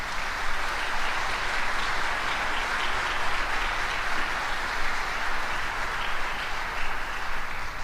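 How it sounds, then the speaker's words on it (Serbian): A crowd applauds a tamburica ensemble at a live show, with dense, even clapping that holds at a steady loud level for several seconds with no voices over it. "Oni su zaista zaslužili svaki vaš aplauz i svaku vašu podršku."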